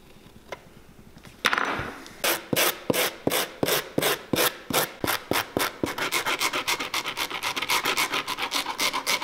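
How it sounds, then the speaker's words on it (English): Shoe soles and stacked heel blocks buffed on a sanding wheel during shoemaking: a steady sequence of short, loud abrasive strokes that starts slow and quickens into rapid repeated rasping bursts, close and alone. "We'll actually clean up these soles by buffing off that top surface, get us down to a fresh layer"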